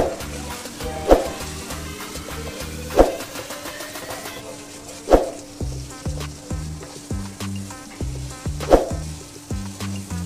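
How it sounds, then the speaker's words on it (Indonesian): Spice paste with torn lime leaves sizzles steadily while being stirred and sautéed in a pan, with a continuous frying hiss and sharp scraping knocks from the utensil about every two seconds. "Sekarang kita aduk lagi dan kita tumis sampai benar-benar tanak ya."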